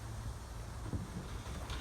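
Wind gusting outdoors on a phone microphone, producing a low steady rumble and buffeting, faint and constant with no voices.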